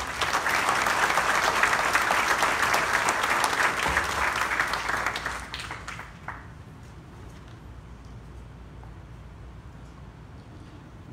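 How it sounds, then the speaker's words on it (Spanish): An audience at a university graduation ceremony breaks into loud, sustained applause. The applause tapers off after about five seconds, leaving a quiet room. "Un aplauso para todos ellos."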